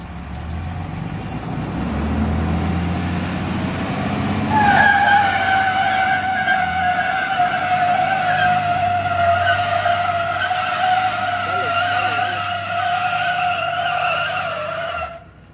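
A Tesla Cybertruck and a weight-loaded Dodge Ram in a towing tug-of-war, tires screeching in a long sustained skid over a low engine rumble, loud and steady for many seconds.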